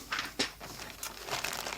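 Plastic bag crinkles in short, close bursts as accessories come out of a BenQ W5700 DLP 4K home theatre projector box, faint and unaccompanied by talk.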